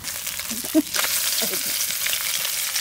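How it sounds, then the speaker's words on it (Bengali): Turmeric-and-salt khoira fish crisping in hot oil after being turned: a loud, close, crackling sizzle with a couple of soft knocks from the pan early on. "মাছটা ভাজা হয়ে গেছে, কড়কড়া করে ভাজা করেছে।"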